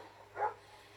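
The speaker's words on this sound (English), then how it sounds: "You'll have to excuse the dogs." A single short dog bark or yip from a dog indoors, briefly rising over a quiet room hum, heard once and then settling back to stillness.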